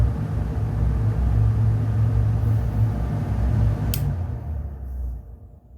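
Fume extractor fan on a quiet, cheaply built enclosure, running with a steady low rumbling hum that fades toward the end, close but subdued, with one brief click partway through and no talk.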